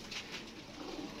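Soft, fairly distant coos from rooftop loft pigeons come in two or three short pulses over quiet background chatter.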